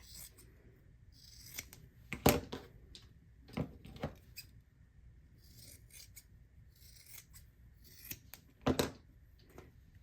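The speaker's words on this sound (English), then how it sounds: "now I'm gonna trim down this seam allowance" Scissors snip through a fabric seam allowance in a quiet room, with several sharp, close cuts spaced unevenly between soft rustling of the cloth.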